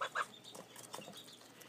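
A young fuzzy goose gosling peeps, two short high calls up front followed by fainter soft chirps, close and quiet with no talk.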